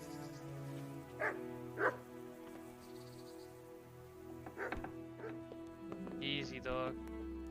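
A dog barks a few times in a medieval game scene, short separate woofs over steady background music, with some faint whimpering near the end.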